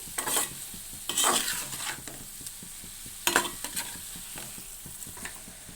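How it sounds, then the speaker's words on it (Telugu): Ginger, garlic and cumin paste sizzles and fries in a pan while being stirred, with repeated scraping strokes of a spoon over a steady hiss, no talking. "ఈ అల్లం వెల్లుల్లి జీలకర్ర పేస్ట్ కూడా పచ్చివాసన పోయేంత వరకు మగ్గబెట్టుకోవాలి"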